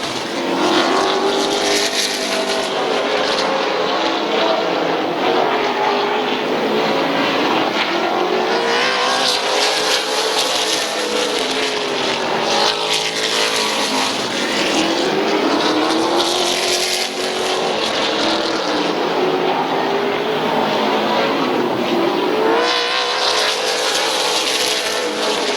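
Race cars roar around the oval at Midvale Speedway in a close race near the checkered flag, with a continuous loud engine drone whose pitch rises and falls as the cars pass and circle the track.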